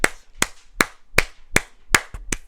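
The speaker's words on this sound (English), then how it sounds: "Let's give her a round of applause." Roughly seven sharp, separate hand claps from a single nearby person, falling in an even, unhurried rhythm with short silences between them in a quiet room.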